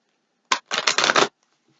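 A quick burst of card shuffling, a short riffle followed by a rapid flutter of cards, close and crisp, then silence.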